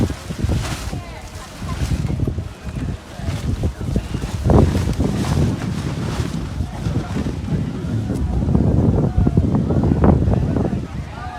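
Strong outdoor wind buffets the microphone with a loud, constant low roar and gusting rumble, while a person talks over it.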